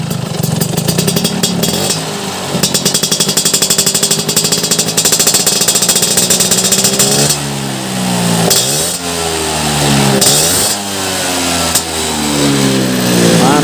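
A 1970 Vespa Sprint scooter engine revs repeatedly through a raspy exhaust, rising and falling in pitch, loud and close, with a steady idle between revs.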